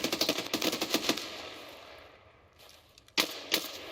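Bursts of automatic gunfire in the video game Escape From Tarkov, a rapid string of close shots for about a second, then a lull before two more sharp, loud reports.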